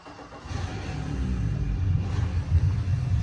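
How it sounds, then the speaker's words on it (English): Suzuki 300 outboard engine on a 2022 Dromeas 28 boat starting up, a low rumble that catches and builds into a steady close idle, no talking. "You've got your engine start stop here, so we'll fire her up."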